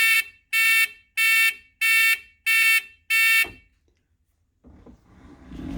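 Six loud, evenly spaced electronic beeps from a Renault Spider's turn-signal indicator telltale speaker, each about half a second long, then silence and a faint rustle near the end.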